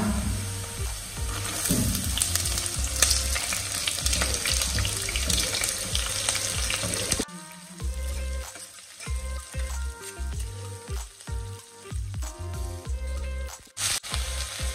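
Garlic and onion fry in a pan for Khandeshi masala khichdi, a dense sizzle dominating the first half before cutting to quieter clinks, stirring and intermittent kitchen clatter.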